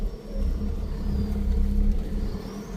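A car climbs uphill on a jungle road near a resort, its engine a steady low drone with a faint whine above, heard from inside the car, no talk.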